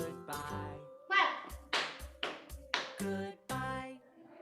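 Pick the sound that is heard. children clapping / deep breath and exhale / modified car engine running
children clapping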